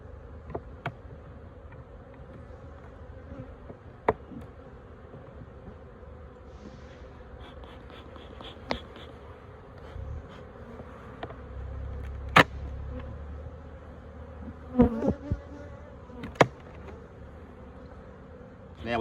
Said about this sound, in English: these bees won't be terribly happy to see me